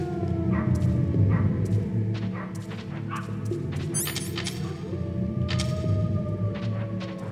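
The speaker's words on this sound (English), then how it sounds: "I think that was a puppy." A puppy in the 1998 game Metal Gear Solid gives several short, high yips and whimpers over a constant low humming background, some close and some a little apart.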